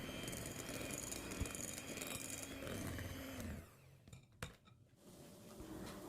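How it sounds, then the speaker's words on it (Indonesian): Brownie batter is folded and stirred with a spatula in a bowl, giving a steady close-up scraping and clattering against the container that thins out near the end into a few separate knocks and clinks. "Aduk balik agar tidak ada yang mengendap di dasar wadah."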